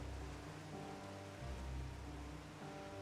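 Steady, even hiss of rain falling in the video game Final Fantasy XIV, continuous with no voices, a dense wash of drops at moderate volume.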